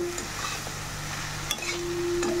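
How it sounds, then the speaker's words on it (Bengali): Eggplant slices fry in a pan with a steady, close sizzle that runs unbroken, broken only by a faint clink or two. "বেগুনগুলোকে ফ্রাই করতে হবে ভালো করে"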